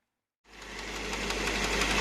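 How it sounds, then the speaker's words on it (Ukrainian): A tractor-driven potato digger starts up after a moment of silence and runs at about 2000 rpm, a steady loud mechanical whir with a rapid rattling rhythm. "Так, випробовую я на обертах. Зараз десь 2000 обертів."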